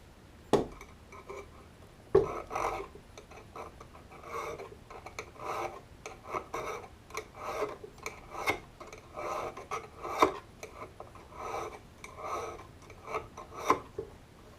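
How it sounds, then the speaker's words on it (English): An auger bit's inside cutting edge being sharpened with a triangle file: steady, rhythmic rasping strokes of metal on metal, close and fairly quiet, repeating with no one talking. "I'm going to use this triangle file right here. And I'm going to start by sharpening this inside edge right here."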